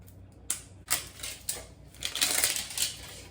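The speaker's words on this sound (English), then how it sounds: "let's just take off the plastic" Plastic wrapping torn and peeled off a glass moisturizer bottle, a series of sharp crinkling rustles with brief pauses, close and fairly quiet, no voices.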